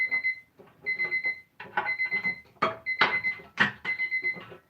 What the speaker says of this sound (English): It'll soon disappear, this alarm, as it's doing my little head in.